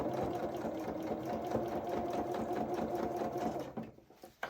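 A sewing machine stitches the cuff of a small coverall, reversing and going forward, a steady close rattling hum of rapid needle strokes that cuts off near the end, followed by a few faint clicks.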